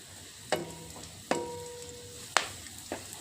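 Sharp clattering hits from stirring dry poha (flattened rice) in a hot pan, four distinct scrapes spaced about a second apart, with a faint sizzle underneath.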